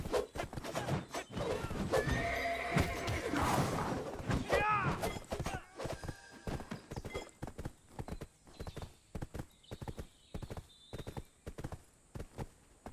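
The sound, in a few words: horse neighing and hooves in Black Desert Online video game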